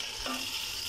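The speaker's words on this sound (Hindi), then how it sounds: "लहसुन अदरक की पेस्ट ऐड करेंगे 2 खाने वाले चम्मच, इसको लाइट गोल्डन सा करेंगे, भूनेंगे।" Garlic ginger paste fries in a pan for chicken nihari, giving a soft, steady sizzle and crackle over one brief second with no talking.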